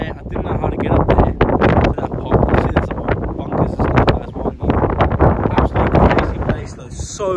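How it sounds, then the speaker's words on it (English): Strong wind batters the microphone at the abandoned WW1 barracks remains of HMP the Verne on Portland, a loud, continuous gusting roar with rapid buffeting throughout. "So windy."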